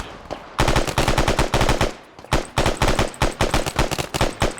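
Rapid automatic gunfire in a military video game, loud and close, coming in fast rattling bursts separated by short pauses, with no talking during the shooting.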